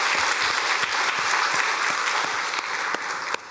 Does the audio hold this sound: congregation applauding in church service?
yes